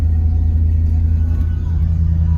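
A GMC Sierra 5.3 pickup with an intake manifold gasket fault idles high on its own, a steady loud low engine drone and rumble with no talking.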